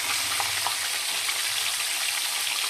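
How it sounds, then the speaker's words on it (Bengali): Whole cumin seeds sizzle in hot oil in a pan, a steady, close crackling hiss that continues evenly throughout, with no talking over it. "এই যে নামিয়ে নিয়ে দিয়ে দিলাম সামান্য একটু গোটা জিরে তেলের মধ্যে"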